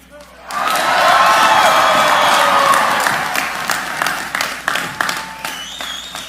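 A large outdoor crowd at the March for Life rally in Washington, D.C. breaks into loud, sustained applause and cheering to welcome Speaker Johnson and Congressman Chris Smith, then fades into scattered claps and shouts.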